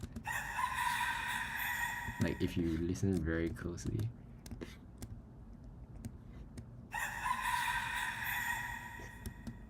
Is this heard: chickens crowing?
yes